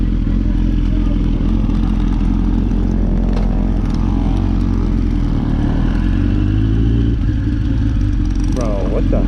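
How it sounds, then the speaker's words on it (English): Mini bikes drag racing at a cars and coffee meet. Small engines drone loudly and continuously with revving and clatter, and a voice can be heard over the noise. "Yo, this is a bunch of mini bikes, yo."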